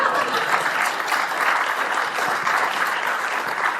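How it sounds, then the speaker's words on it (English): An audience at a builders' bootcamp event gives its volunteers a round of applause, dense continuous clapping, close and fairly loud throughout. "Round of applause for our volunteers."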